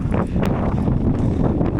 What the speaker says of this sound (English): Just absolutely ripping the wind outside.